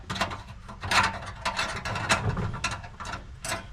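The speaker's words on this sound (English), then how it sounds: "so we'll put our cleaned up locking ring" Metal clicks, scrapes and ratcheting knocks come from refitting a cleaned locking ring on a Classic Mini Cooper fuel sender unit, a close run of short irregular mechanical taps and grinding turns.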